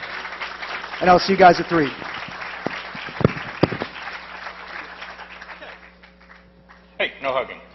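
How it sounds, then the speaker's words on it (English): Audience applause at a hacker conference talk on e-voting security, a steady wash of clapping running under someone speaking to the crowd, fading toward the end. "Guys, give them a big round of applause, Sandy and crew"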